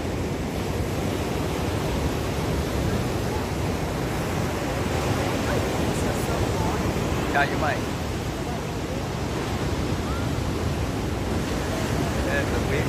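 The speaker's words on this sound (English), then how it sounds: "the waves come out, you ride it" Ocean surf breaking on Kuta Beach, Bali, on a cloudy day, a steady loud wash of waves and wind noise running throughout, with a person talking over it.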